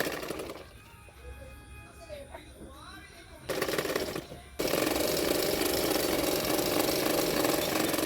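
Domestic sewing machine stitching the folded hem of a blouse sleeve, a steady mechanical whir that starts and stops in short bursts, then runs continuously and loudly to the end.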